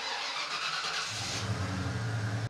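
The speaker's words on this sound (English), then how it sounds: "the next step is to start the truck" A Ford Bronco or F-150 pickup engine from 1980 to 1996 cranks with a whirring starter, then catches into a low rumbling idle before cutting off abruptly, close and fairly loud.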